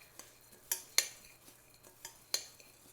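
Salmon topping stirred briefly in a bowl, heard as a few quiet, sharp clinks and scrapes of a utensil against the side, spaced irregularly over a faint background.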